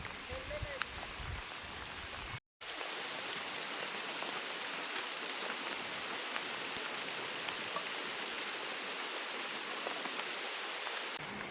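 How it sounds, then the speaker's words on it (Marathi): Light drizzle on a trek through the Bhairavgad hills of the Sahyadri, a steady soft hiss throughout with a brief dropout early on, while low voices murmur faintly in the background. "मस्त रिमझिम रिमझिम पाऊस लागतो."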